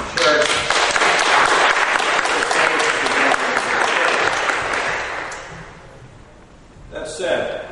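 Audience at a 2011 Toronto-Danforth provincial all-candidates debate breaks into loud, dense applause that fills most of the clip, tapering off toward the end with a few scattered claps and faint voices.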